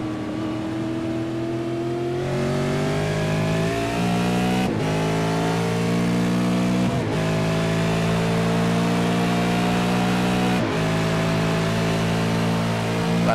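V8 race car engine heard onboard at Suzuka, droning steadily and loudly as it climbs through the revs, with sharp gear-change breaks every few seconds and no talking.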